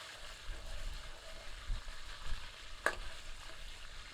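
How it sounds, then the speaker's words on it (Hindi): Whole spices sizzle and crackle in hot oil for a curry base, a steady low frying hiss with a sharp pop near the end, no voices over it. "गर्म तेल में अब सारे साबुत मसाले सम्मिलित करते हैं। इन्हें कुछ क्षण तेल में भूनते हैं"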